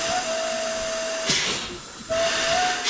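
A steady hiss of compressed air leaks from the front wheel brake pot of a cabover truck, with a faint whistling tone and a brief rustling break midway, close by and without talk.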